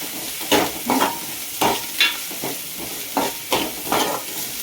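Capsicum frying with chillies and onion while being stirred, a low steady sizzle punctuated by about a dozen rhythmic spatula scrapes and knocks against the pan, close up and moderately loud, with no voices.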